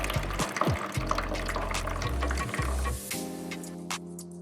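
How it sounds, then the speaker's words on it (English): Murky river water poured through a cotton cloth filter gives a steady, close splashing trickle that runs for several seconds, then eases into a lighter drip and flow near the end. "I'm gonna pour this murky water through the cloth like this."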